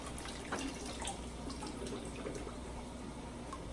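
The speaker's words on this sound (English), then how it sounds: "Power off to get just enough water in the buckets for the fish to sit in for now" Water from a cichlid fish tank being torn down pours steadily into buckets, a continuous close splashing, trickling flow that runs alone without pause.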